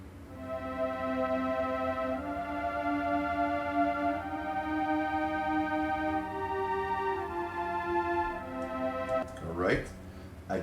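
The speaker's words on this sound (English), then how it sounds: "I added a pad from the same virtual instrument" A sustained synth pad from a virtual instrument layered over the arrangement, with held harmonic tones that shift pitch in slow steps across the phrase and a brief noisy sweep near the end.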